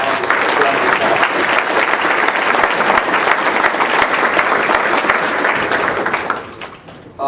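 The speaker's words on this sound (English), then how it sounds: "let's give all of our candidates a round of" An audience at a legislative forum in Southgate, Michigan gives the candidates a round of applause that stays dense and sustained for several seconds, then fades away.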